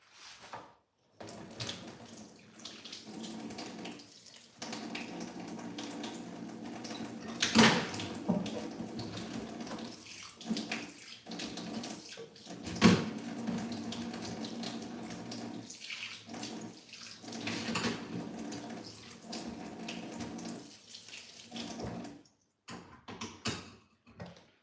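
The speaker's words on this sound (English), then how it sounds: "Let's wash this." Water runs from a kitchen tap as food ingredients for egusi and oha soup are washed, a fairly quiet, steady splashing stream broken by brief pauses and a few sharper knocks, with no talking.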